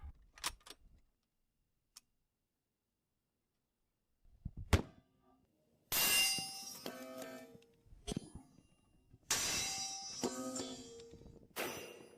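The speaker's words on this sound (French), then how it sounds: "on est prêt à tirer la munition Saboted Light Armor Penetrator sur du titane d'1 pouce écart" A .50 caliber Saboted Light Armor Penetrator round fired into a 1-inch titanium plate: a few isolated knocks, then two loud, broad blasts with metallic ringing that decay over a second or more, heard at a distance.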